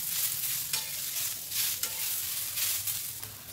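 Sliced onion fries in hot oil for a chicken curry, a soft, close, steady sizzle with recurring scraping swishes as it is stirred in the pan.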